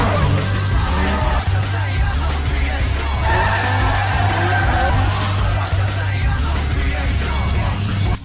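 Car drifting at night in a Tokyo drift street scene, with tires skidding and squealing continuously over a steady low engine drone and music-like tonal bands, loud and sustained throughout.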